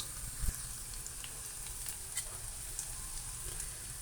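Ginger and garlic frying in a pan for fish curry, a soft steady sizzle with a few faint clicks of stirring, quiet and close, with no talking.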